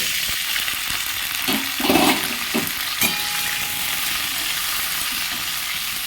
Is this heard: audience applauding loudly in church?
no